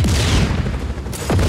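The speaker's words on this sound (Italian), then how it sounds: "Non so cosa diavolo è successo lì, ma è esploso a random." A video-game explosion in Just Cause 4, a loud boom that decays into rumbling debris, followed moments later by a second sharp blast.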